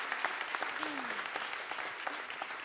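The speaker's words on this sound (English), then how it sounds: "a round of applause for all of our panelists there." Audience at a plenary debate applauds the panelists, a moderate, steady patter of clapping with a brief voice partly over it.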